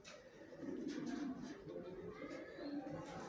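Racing pigeons coo softly in a loft where young birds are kept for sale, a low continuous murmur of cooing heard faintly at a distance.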